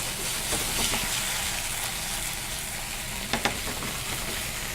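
Octopus warming gently in a little oil in a pan for a warm salad, giving a steady broadband sizzle throughout with a couple of brief utensil clicks near the end, no voices.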